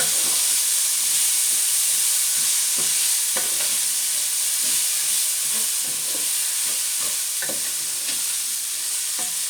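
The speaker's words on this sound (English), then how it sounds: "I'm going to throw in my onion now" Chopped onion sizzling loudly in hot oil in a pan for Mexican rice, a dense continuous hiss close up, with soft irregular stirring scrapes throughout and no voices.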